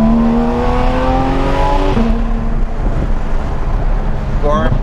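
Steady interior drone of a Porsche 991.2 GT3 RS cruising, engine tone dropping as it shifts gear, close and continuous with people talking over it.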